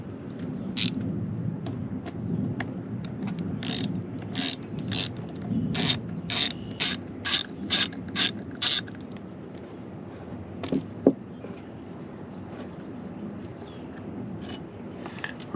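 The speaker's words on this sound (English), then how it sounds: "The 3 bolts on the impeller housing require a 7mm socket to remove them." Ratchet clicking with a 7mm socket while backing out the three bolts on a Rainman watermaker impeller housing cover, in repeated close, sharp bursts of rapid clicks over a low background rumble.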